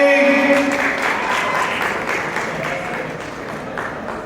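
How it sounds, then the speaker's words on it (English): A wedding crowd bursts into loud applause for Sushil as he is invited on stage, dense clapping with a few cheers fading slightly over several seconds. "Big round of applause for Sushil."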